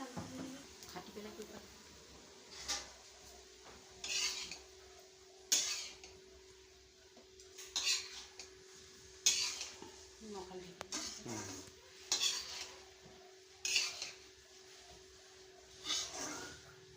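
Ground spice paste is fried and stirred in a cooking pan, with a utensil scraping and clinking against the metal at a steady pace of one stroke every second or two while a person talks over it.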